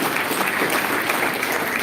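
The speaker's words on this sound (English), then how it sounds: "Please give a round of applause to Mr." Audience applause for a guest speaker at a climate change panel event, a steady dense wash of clapping that fills the whole stretch at an even, moderate level with no voices over it.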